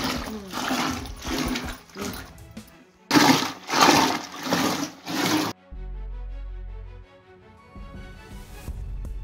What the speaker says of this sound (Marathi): आता ही दही रवीच्या साहाय्याने अशी घुसून आता यातनं लोणी तयार करणार आहे